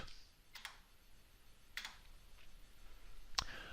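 A few sparse, quiet key clicks on a computer keyboard with long gaps between them over a faint room hiss; no talk.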